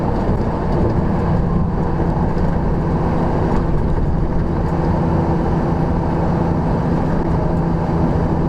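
Road traffic near New York City rolls past as a loud, continuous low rumble of moving vehicles, steady throughout with no voices.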